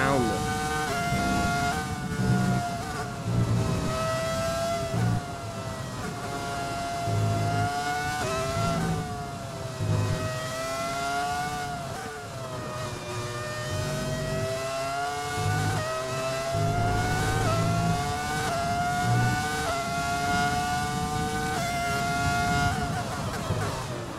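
In F1 2020, the Ferrari F2004's shrill V10 screams continuously as it climbs and drops through the gears, with brief lifts for braking into corners, loud and close, while someone speaks over it.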